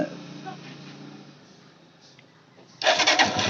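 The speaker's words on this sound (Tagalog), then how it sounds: "So try na natin start kung okay." A Rusi 150/125 motorcycle with a newly replaced starter solenoid turns over and fires near the end, bursting into a loud, close engine roar after a quiet stretch with faint handling noises.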